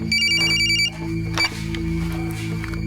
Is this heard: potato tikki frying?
no